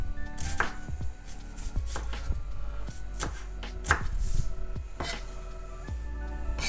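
Onion being cut with a knife on a board for a soup, a run of sharp, close chops at an uneven pace, loud and without any talk over it.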